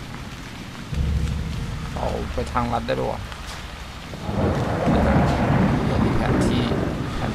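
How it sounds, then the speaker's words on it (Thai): Thunder rumbles and rain pours steadily in the horror game Haunt, the storm loud and continuous, swelling heavier in the second half while someone talks casually in Thai over it. "ฟ้าร้องไม่หยุด"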